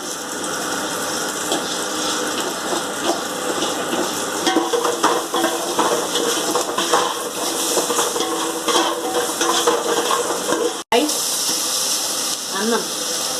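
Cooked jeera rice with curry leaves, green chillies and salt is stirred and mixed in a pan, giving a steady scraping, sizzling hiss with scattered clinks that runs continuously and fairly close.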